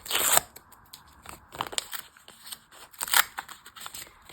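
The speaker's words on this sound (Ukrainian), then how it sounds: "Давайте відкриваємо пакетик." Crinkly tearing and rustling of a small paper sticker packet being opened up close, in several short bursts with brief pauses between.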